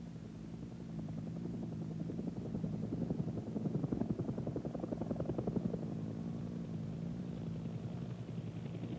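A UH-1D or UH-1H helicopter in flight gives off a faint, steady, rhythmic thudding rotor beat over a low mechanical drone, continuous throughout with no voices.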